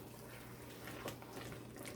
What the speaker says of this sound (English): Gotta add some more water